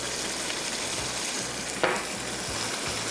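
Beef with kasuri methi frying over high heat, a steady dense sizzle throughout with a brief louder burst of spatter near the middle, close and without talk.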